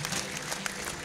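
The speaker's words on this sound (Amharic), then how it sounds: "እስቲ ለእግዚአብሔር ክብር አጨብጭቡለት እስቲ።" Congregation at a church prophecy and deliverance service clapping in sustained, dense applause, fairly close and steady throughout the short burst.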